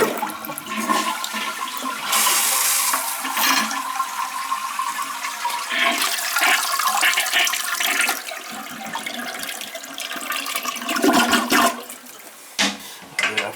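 Repaired toilet flushing loudly up close, a rushing gush of water followed by steady swirling and refilling flow for several seconds.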